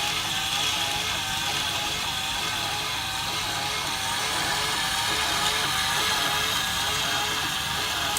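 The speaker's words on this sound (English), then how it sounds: "the only sound you can hear is the pumping up the milk to put it into the cup" A one-touch coffee machine pumps milk into the cup for a latte with a continuous, even mechanical whir and hiss that holds steady throughout.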